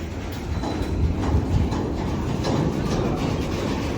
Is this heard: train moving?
yes